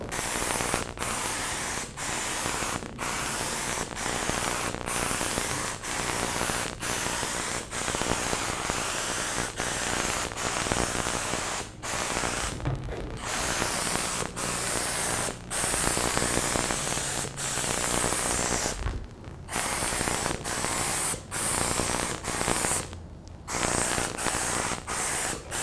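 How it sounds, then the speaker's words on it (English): Steady close hiss of a spray gun laying a light silver fog coat of paint, running almost continuously with brief gaps between passes. "What you want to do first is just lay a fog coat on. We're just going to get enough paint on to turn it silver."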